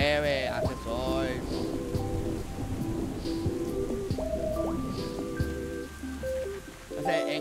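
Steady rain falls throughout in The Swords of Ditto video game, a constant patter beneath game music and sound effects.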